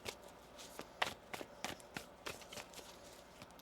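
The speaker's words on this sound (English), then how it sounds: "One more shuffle here." A deck of tarot cards being shuffled, a series of quick, crisp riffling snaps and taps at irregular intervals, close and fairly quiet with no talk.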